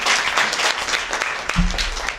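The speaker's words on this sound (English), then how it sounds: "Give them a big round of applause" Applause from a group at a Phi Mu sorority gathering, steady clapping lasting a couple of seconds before a low thump near the end.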